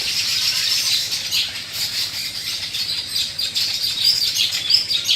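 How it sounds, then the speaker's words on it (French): Birds sing beside a lake in Cameroon, a busy mix of high chirps, tweets and squeaky calls over faint background ambience, continuous and moderately near. "Quelques oiseaux nous font grâce en chanson de cette magie opérante."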